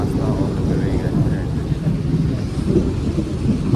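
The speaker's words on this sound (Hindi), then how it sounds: "बारिश बड़ी तेज़ होने वाली है" Heavy rain roars loudly and steadily, close and dense with deep rumbling underneath, in the mountains on the road toward Chopta in India.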